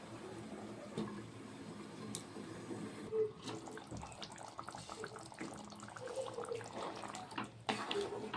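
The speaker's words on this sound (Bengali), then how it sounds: "এবার দিয়ে দেব 1 বাটি গরম জল, দিয়ে নাড়াচাড়া করে আবারও আমি ঢেকে দেব।" Hot water poured from a bowl into a pot of cooking goat meat, a steady soft splashing and trickling stream running for several seconds, fairly quiet and close.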